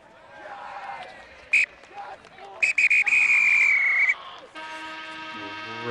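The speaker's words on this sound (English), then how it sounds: "the referee is going to whistle us for the end of this matchup here" A referee's whistle ends a Great Lakes Thunderbirds vs. Tri-State Foundry match: one short blast, then a long, loud, steady blast, over crowd noise and a commentator talking.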